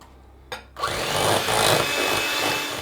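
Electric hand blender whisking ghee and sugar for Indian shortbread: a brief knock, then the motor starts and runs as a steady loud whirring buzz with a slight churning wobble, close and alone.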